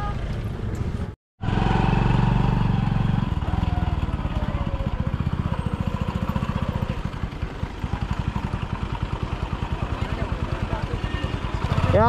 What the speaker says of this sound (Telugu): ఇక్కడైతే బైక్ వేసుకుని మన క్యాంపింగ్ ల్యాండ్ దగ్గరికి వెళ్ళి